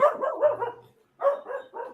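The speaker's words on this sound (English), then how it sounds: "the dog is upset" A dog gives two short bursts of rough, agitated barking, close and loud, with a brief pause between them.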